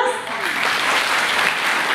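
At a Japanese princess procession event in a community centre, an audience applauds and cheers steadily, a dense, fairly loud wash of clapping with voices mixed in.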